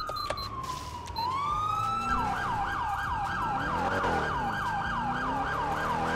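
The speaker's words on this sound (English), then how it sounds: "The police car's still over there." Police car siren in the video game GTA 5, a loud continuous wailing yelp cycling rapidly after a brief rising tone, heard alone with engine hum beneath.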